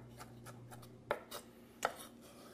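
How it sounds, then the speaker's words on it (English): A knife chops capers on a cutting board for a scallop and shrimp burger mixture: two sharp, close wooden knocks about a second apart, with faint lighter taps between them and no talking. "Now I'm just going to run my knife through those as well"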